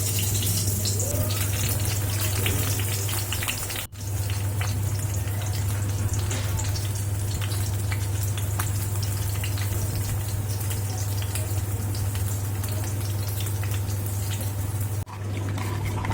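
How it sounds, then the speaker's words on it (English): Stuffed brinjal (baingan) frying in two to three tablespoons of oil in a pan, a steady, even sizzle that holds at a constant level throughout with a continuous low background hum. "take a pan, add around 2 to 3 tablespoons of oil and by one put the bangan"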